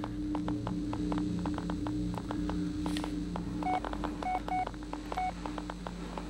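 Phone keypad tones beep in the Blair Witch video game, a handful of short dialing beeps in an uneven sequence over a constant low hum and light tapping.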